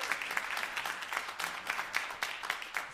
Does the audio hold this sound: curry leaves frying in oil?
no